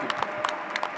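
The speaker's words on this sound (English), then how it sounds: "A huge round of applause I need." Brief scattered clapping from an audience at a youth peace dialogue forum in Pune, India, a light patter of claps over a short moment.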